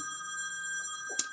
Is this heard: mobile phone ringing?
yes